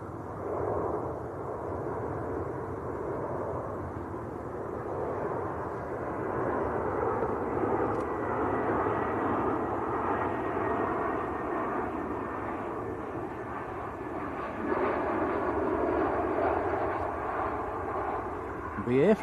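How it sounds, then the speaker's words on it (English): A British Airways airliner in from London Heathrow on final approach to Manchester Airport, a steady broad jet roar sustained throughout at moderate distance, swelling slightly near the end. "We've got British Airways on finals as well"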